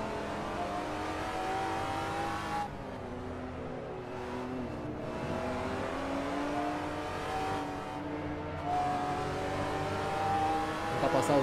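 A GT4 race car engine at Mugello in the Assetto Corsa racing game, revving and shifting through gears with rising and falling pitch, steady and fairly close, with a voice talking briefly over it.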